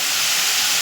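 Spices, salt and turmeric fry in a pan, a loud, dense, unbroken hiss of sizzling oil close by.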